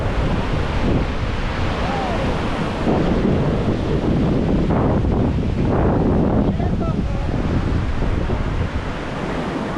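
Broad, steady roar of choppy surf and waves washing in on a Boracay beach, with gusty wind buffeting the microphone throughout and no clear pauses.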